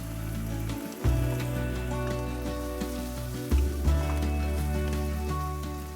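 Extra firm tofu sautés in a pan with a steady, dense sizzle throughout, a constant crackling hiss with a low hum underneath and a couple of brief clatters.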